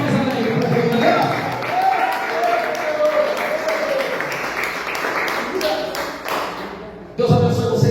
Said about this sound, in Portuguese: Aplauda mais alegre para Deus, galera.